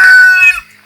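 A chicken gives one brief, loud, close cluck-like call with a bright, tonal quality that quickly fades to quiet. It comes from backyard free-range hens being let out during a solar eclipse.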